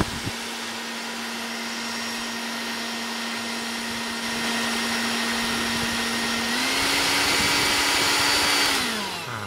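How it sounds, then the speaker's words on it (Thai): A hot air gun blows on loose parts of a bootleg Spider-Man action figure, a steady close whooshing hum with a constant motor whine that shifts slightly in pitch near the end before winding down. "ขออนุญาตใช้ไดร้อนเป่าก่อน"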